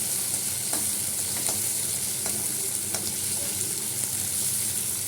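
Prawns rubbed with salt and turmeric sizzle steadily in a frying pan, with a few sharp scrapes of stirring at regular intervals over the continuous crackle.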